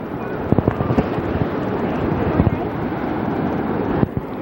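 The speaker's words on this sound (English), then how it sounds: "You can hear the roar of the falls in the background" Steady rushing roar of Niagara Falls at the Horseshoe Falls fills the background, broad and constant, with a few brief knocks and handling bumps on top and no clear talk.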